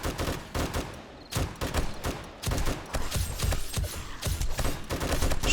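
An M60 machine gun fires in a zombie horde-night survival game, loud repeated bursts of rapid gunfire broken by brief pauses, continuing with dense overlapping shots throughout.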